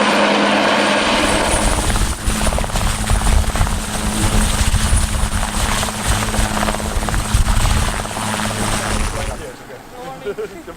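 A helicopter's rotor thumps and engine whine fill the air steadily on a mountain, loud and close, before fading slightly at the end.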